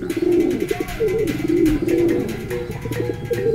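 Several pigeons coo steadily and close by in Zambales, Philippines, low throaty calls repeating and overlapping with no voices.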